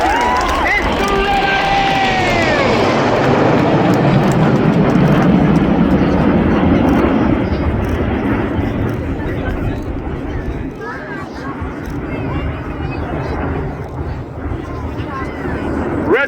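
Royal Air Force Aerobatics team jets roaring overhead at the RAF Cosford Airshow, a loud sustained jet roar that swells and slowly fades as the aircraft pass, with a public-address announcer talking over it and crowd noise beneath.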